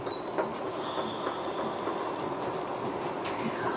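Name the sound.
train at Kyiv central railway station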